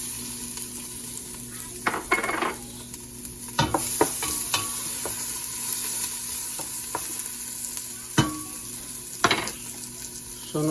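Garlic frying in a hot pan while being stirred, a steady sizzle running throughout with several sharp scrapes and clinks of the utensil against the pan.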